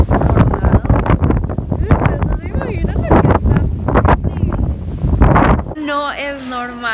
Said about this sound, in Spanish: No es normal, casi me muero con ese viento.